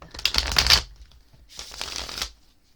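Two bursts of crisp, rapid tarot card shuffling, close up, the first louder and busier, the second a bit softer after a short pause.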